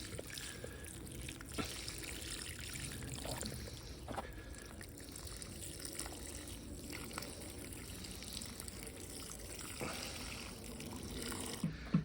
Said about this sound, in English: And now I'll water them in. Give them a good drink of water